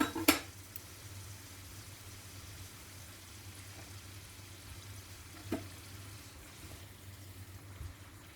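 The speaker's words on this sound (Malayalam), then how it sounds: "2 ഭാഗവും ഗോൾഡൻ ബ്രൗൺ നിറാവുന്നത് വരെ വറുത്തിട്ട് നമുക്ക് കോരിയെടുക്കാം." Keema kachori frying in hot oil in a pan, a steady low sizzle running throughout with a few sharp metallic clinks of a utensil against the pan, no talking.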